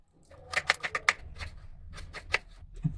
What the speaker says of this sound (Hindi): तो हम इसको गोभियों को छोटे छोटे टुकड़ों में काट लेते हैं।